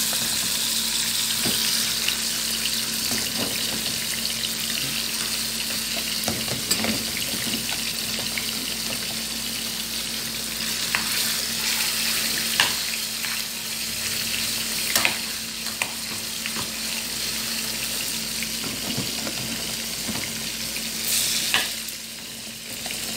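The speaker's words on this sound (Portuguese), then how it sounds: "Vou colocar já aqui no óleo" Steady loud sizzling of rice balls frying in hot oil, with occasional stirring clatter and a continuous hiss throughout.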